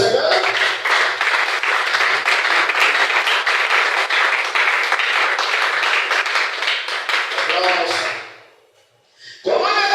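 A church congregation claps rhythmically in loud, sustained applause that fades into a brief lull before clapping swells again.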